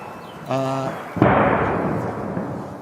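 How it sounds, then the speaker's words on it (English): A loud, heavy boom from a missile interception during an incoming missile attack rolls into a long rumbling decay. A short tonal sound comes just before the blast. "That's a very, very loud intercept there."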